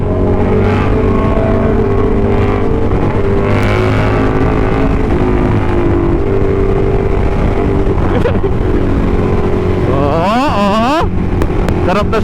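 Superbike motorcycle engines rumble loudly and continuously during a group ride, with a sharp rising rev near the end and voices talking over the noise.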